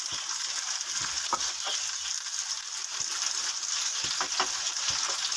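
Potatoes frying in a pan give off a steady, soft sizzle with a few faint clicks and scrapes scattered through it, all fairly quiet and with no talking.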